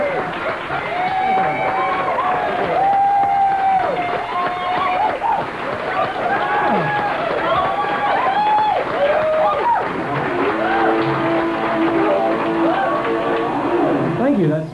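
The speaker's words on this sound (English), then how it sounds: "Give him a round of applause" An audience at HMV Superstore Toronto in 1991 applauds and cheers to welcome Brian May, with a dense wash of clapping and rising whoops and shouts sustained throughout at a strong, lively level.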